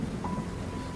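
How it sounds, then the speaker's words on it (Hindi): Heavy rain pours steadily with a low rumble of thunder underneath, a continuous close wash of noise throughout with no voices. "तभी तेज बारिश भी शुरू हो गई"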